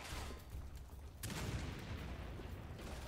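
Turret gunfire in Resident Evil 6, heard as faint, distant bursts of rapid shots that swell into a denser barrage partway through and continue steadily to the end.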